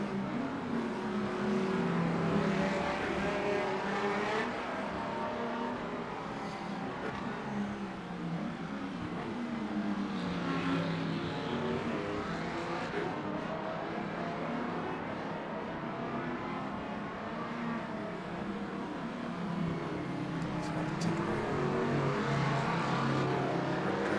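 Race car engine in a racing game on a wet track during a six-hour team endurance race at Fuji, a steady continuous drone with gently shifting pitch as the car drives on, no talk over it.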